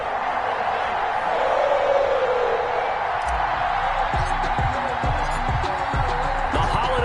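Stadium crowd noise at an NFL game between the New England Patriots and Cincinnati Bengals in a PS4 football game, a steady loud roar with swelling cheers throughout, plus thumping impacts in the second half.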